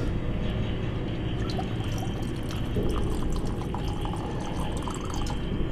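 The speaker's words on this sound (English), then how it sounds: "and you just need to sort of pour it over the ice." Absinthe poured over ice, a continuous close liquid pour and trickle with faint clinks of ice, running steadily for several seconds.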